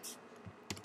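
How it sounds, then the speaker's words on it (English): Clicks of keys on a computer keyboard, including the Tab key, in a quiet room: a soft click near the start and a sharper double click near the end. "You can also press the tab button, and it'll take you to the next one."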